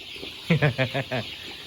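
A chicken at a farm gives a quick run of about five clear, close clucks in a row, with quieter faint sounds before it.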